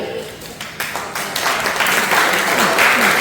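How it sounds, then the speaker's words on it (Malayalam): An audience at a Malayalee association school-opening event in Greater Houston bursts into applause, the clapping swelling from scattered claps into a dense, steady round. "നിങ്ങൾ കൈയടിച്ചാലോ ഒരാൾ വരും."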